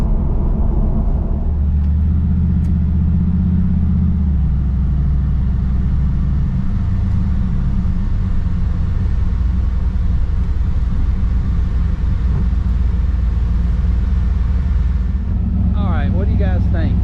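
A turbocharged LS3 V8 car engine rumbles loudly and steadily throughout, its low drone shifting pitch slightly early on, with a brief burst of other sound near the end.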